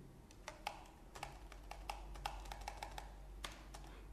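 Someone types code on a computer keyboard, with quiet, irregular key clicks in short clusters over a faint steady hum.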